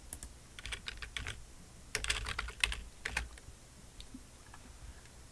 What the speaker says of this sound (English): So I'll type it down here so you can see it.